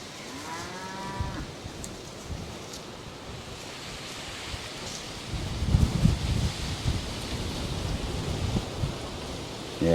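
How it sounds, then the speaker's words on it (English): Cattle low on a very windy farm during herd separation, one drawn-out moo at the start with another deeper bellow midway, set against constant loud wind rustle. "These crazy cows."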